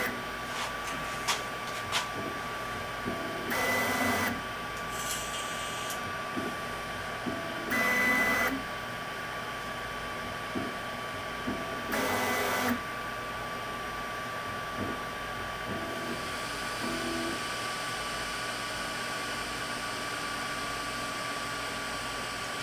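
A Sovol SV08 3D printer heats up for PLA, its steady fan hum running throughout with intermittent brief louder mechanical bursts and small clicks, close and fairly quiet.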